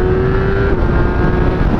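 A 2016 Kawasaki ZX10R sports bike roars loud and close under hard acceleration, a sustained engine drone with a steady rising tone across the short burst.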